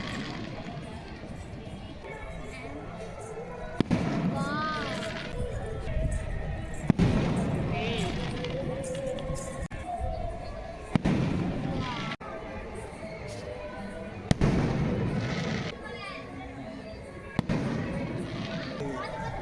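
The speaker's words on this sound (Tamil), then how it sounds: "சாமி வந்து ரெடி பண்ணி வச்சுருந்தனால வெடியெல்லாம் போட்டுட்டு இருந்தாங்க" Firecrackers burst at the Chithirai temple festival in Manamadurai, with sharp, loud bangs every few seconds over a continuous hubbub of crowd chatter and people talking nearby.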